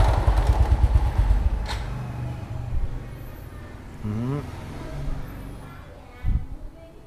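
A motorcycle engine idles with a low, steady putter that is loudest at the start and then softens, with someone speaking over it and some light clatter nearby.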